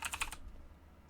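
Quick burst of computer keyboard typing, five or six crisp clicking keystrokes in rapid succession, then near-silence with one faint tap at the end.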